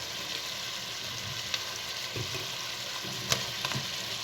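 Steady frying sizzle from a casserole pan of chicken as potatoes go in, with a few soft knocks and clatters over the constant hiss.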